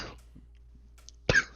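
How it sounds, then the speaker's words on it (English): A single short, sharp sneeze bursts out near the end after quiet breathing and faint background sounds, close and loud. "Sorry, sneezing."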